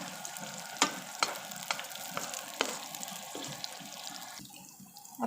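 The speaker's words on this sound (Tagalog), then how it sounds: "ilalagay naman natin yung chicken franks. Pipretuhin lang natin siya ng kaunti para na, ano, masarap." Chicken franks frying in a pan with garlic and onion for sotanghon gisado, a soft steady sizzle broken by a series of clicks and scrapes from stirring, close but fairly quiet, with no one speaking.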